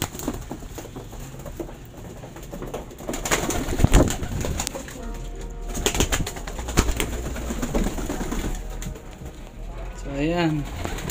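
A pigeon in a training loft coos repeatedly, its soft rolling calls rising clearly near the end. Fluttering, shuffling and a sharp knock fill the background, and a person speaks at times.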